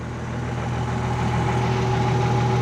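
Komatsu D85 bulldozer diesel engine idling at lowered RPM on a mine site, a steady close low rumble with a constant mechanical hum, running alone without talk.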